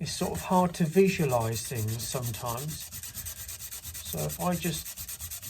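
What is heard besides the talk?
scuffing a metal surface by hand with an abrasive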